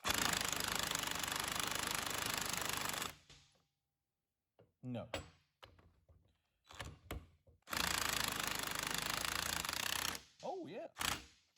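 Two long, loud bursts of a buzzing, rattling DeWalt impact wrench working on a Delco Remy alternator hammer close by, separated by quieter clanks and brief speech.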